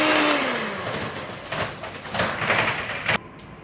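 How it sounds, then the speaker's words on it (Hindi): A sugar mixture for chocolate chip cupcake batter is beaten in a steady, whirring, noisy churn that swells slightly before cutting off abruptly near the end. "अब इसको अच्छी तरह बीट कर लेंगे।"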